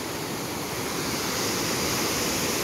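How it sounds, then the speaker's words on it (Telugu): Gandahathi waterfall in the hilly Gajapathi district of Odisha, with a steady, loud roar of rushing water that holds constant and close, with no voices. "సో చూడొచ్చు వాటర్ ఫాల్ అనేది,"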